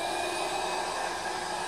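A household vacuum cleaner running steadily on carpet, a loud continuous whooshing roar with no pauses, heard alone and close.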